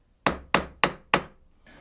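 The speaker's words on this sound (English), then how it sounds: "first port of call is to punch a hole in the sheared bolt, so that will guide then the drill bit" A hammer strikes a metal punch into a sheared bolt four times in a steady rhythm, each blow a sharp, loud, close ringing crack that decays quickly.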